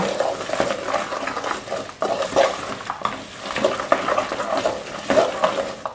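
Walnuts stirred into hot caramel in a pan, giving soft scraping and sticky stirring strokes with a faint sizzle, moderately quiet and repeating every second or so without speech.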